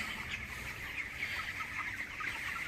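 A flock of young 22-day-old chickens crowding around feed clucks continuously, a busy, moderately close chatter with no voices over it.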